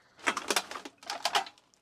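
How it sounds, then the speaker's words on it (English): Beer cans being crunched in a workshop: two quick, faint bursts of crackling, crinkling metal, each lasting under a second and separated by a brief pause, with no talking. "Yes, that was the sound of crunching beer cans."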